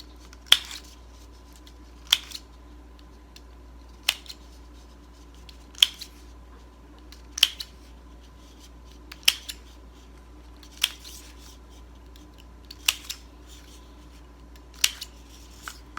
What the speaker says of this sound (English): And we can go maybe some snips around the edge here.